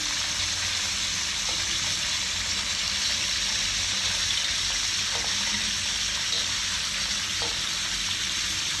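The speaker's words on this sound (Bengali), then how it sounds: "এবার নুন মাখানো চিকেনটাকে আমি দিয়ে দিচ্ছি। গ্যাসটাকে আস্তে আস্তে কমিয়ে দেবেন, আস্তে আস্তে করে ভাজতে থাকবেন।" Salted chicken pieces frying in a pan over a lowered gas flame for dhaba-style chicken curry, a continuous even hiss of sizzling oil with faint occasional clicks, steady throughout.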